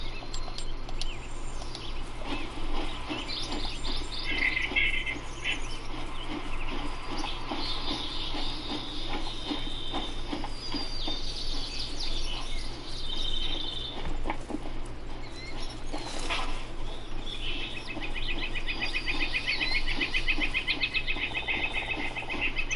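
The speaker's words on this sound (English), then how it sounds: "Woodpecker." Woodpecker and assorted birds in The Hunter: Call of the Wild at Layton Lake, with chirps and calls scattered over a steady bed of frog and insect ambience, moderately loud throughout.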